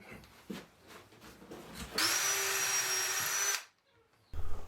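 A power drill bores pilot holes into the back of a wooden shelf, a loud, steady high whine lasting under two seconds before cutting off, preceded by soft handling knocks and followed by a brief thud.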